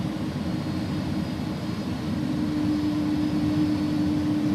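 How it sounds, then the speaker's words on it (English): Simulated Airbus A310 jet engines in X-Plane 11 spool up as throttle is added, a loud steady roar with a rising tonal whine building toward the end, no voices. "Now listen to the sounds as we add power to the throttle."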